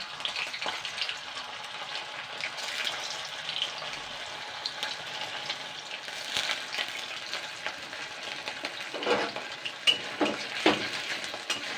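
Batter dumplings for a Mayapur ISKCON-style flour curry frying in hot oil in a pan, a continuous crackling sizzle with occasional stirring and utensil clinks, fairly close and heard alone.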